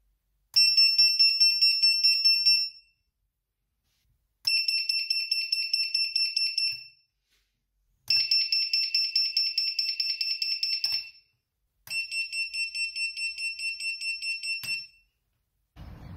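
Four bursts of rapid, piercing electronic beeping from Vifly Finder and Helgate FPV drone finder buzzers, tested outdoors at a park, each lasting a couple of seconds, separated by brief silences; loud and shrill with no talking.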